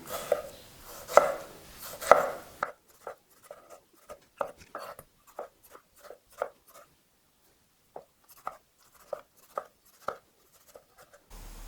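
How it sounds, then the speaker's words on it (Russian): Sharp knife strokes dicing tomatoes on a cutting board, a fast burst of chopping followed by a steady string of separate, crisp taps, close up. "И также нарезаем кубиком."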